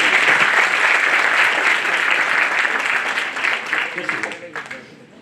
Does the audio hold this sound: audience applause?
yes